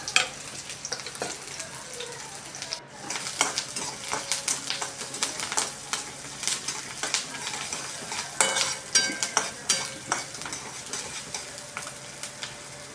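Onion is sautéed in oil with mustard seeds for a thecha, with a steady crackling sizzle under frequent quick scrapes and clinks of a spoon against the pan.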